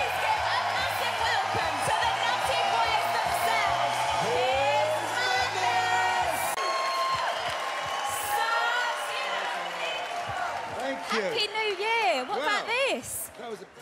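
A large crowd at a New Year's show roars and cheers throughout, with whoops and yells rising toward the end, while presenters speak loudly over the noise.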